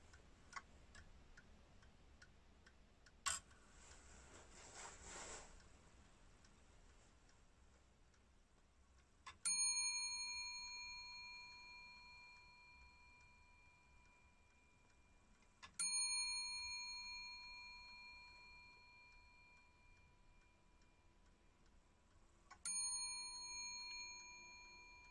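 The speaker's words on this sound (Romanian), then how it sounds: "bate la fix, bate pe un clopot" A Le Castel Swiss clock ticks steadily and strikes the hour on a bell, with three clear, ringing strikes spaced several seconds apart, each decaying slowly, in an otherwise quiet room.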